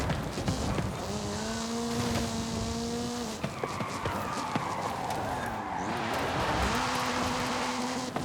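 Racing cars in Forza Horizon 5 with a fairly slow-topping car: steady loud engine drone with rising and falling gear tones, brief tire squeals and scrapes, engine note dipping and climbing again near the end.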